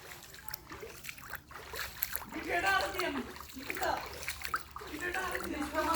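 Flood water in a house yard sloshes and splashes in irregular bursts close by, with a person speaking over the watery movement.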